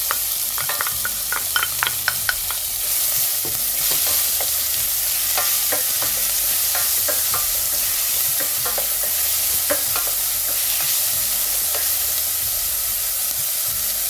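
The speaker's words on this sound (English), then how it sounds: "Add onion." Chopped onion fries in a hot pan for chicken tikka masala. It makes a steady loud sizzle with repeated stirring scrapes and clicks throughout, and no talk.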